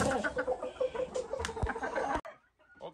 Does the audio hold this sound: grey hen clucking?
yes